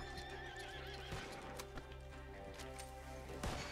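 A horse whinnies loudly while hooves clop in a steady rhythm, with a faint muffled background bed, in the video game Red Dead Redemption 2.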